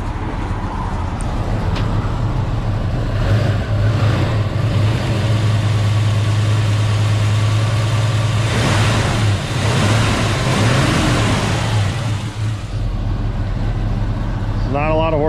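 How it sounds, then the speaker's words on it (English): A 1969 Chevrolet Chevelle with a four-speed, in mostly stock configuration, runs steadily with a low, throaty rumble, swelling as it revs up midway before settling back, recorded close by with no talking. "Let you listen to the motor."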